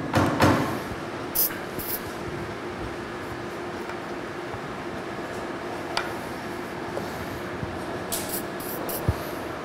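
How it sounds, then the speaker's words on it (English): Silicone spray hisses in a few short bursts onto the air cylinder rods of a 700 DC machine during routine maintenance, with faint rubbing and clicks in a quiet workshop between sprays. "we're going to want to clean and lubricate all of our air cylinder rods with a"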